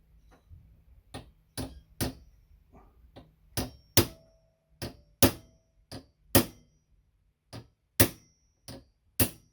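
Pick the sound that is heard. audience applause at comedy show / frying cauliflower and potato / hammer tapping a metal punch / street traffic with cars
hammer tapping a metal punch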